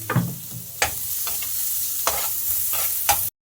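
Ginger sautéing in a pan gives a low, steady sizzle, broken by several sharp utensil scrapes and knocks at irregular intervals, close by with no talk.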